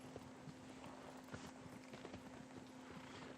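Horse hooves clip-clopping at a steady gallop in the video game Shadow of the Colossus, soft repeated footfalls under a constant low hum, with no voices.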